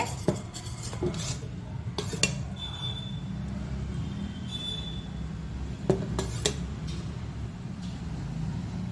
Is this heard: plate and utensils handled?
yes